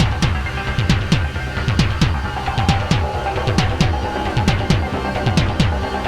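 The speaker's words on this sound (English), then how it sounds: "we went over to the DFAM and made kind of a weird percussive texture" Percussive, off-kilter hits from a Moog DFAM analog drum synthesizer repeat in a steady, busy rhythm, with sharp clicky transients over pitched, decaying thumps. The texture stays alone and fairly loud, with no voices.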